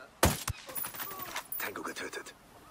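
Two sharp gunshots ring out in Ghost Recon Wildlands, followed by a scattered burst of further shots and clatter, with a voice speaking faintly underneath.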